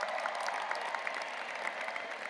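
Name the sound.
commencement audience cheering and applauding keynote speaker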